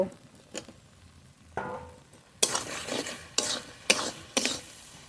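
A spatula scrapes and stirs fried fish with ridge gourd curry in a pan, quiet at first, then several loud rasping strokes in an uneven rhythm, close up with no voices.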